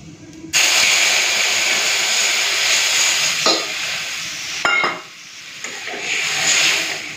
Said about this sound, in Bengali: দিয়ে দিচ্ছি তেঁতুলের টক জল